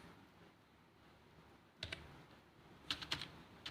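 A few quick keystrokes on a computer keyboard enter a date in an Excel spreadsheet: a short pair of taps, then a small cluster of clicks, close and light over a faint room hiss.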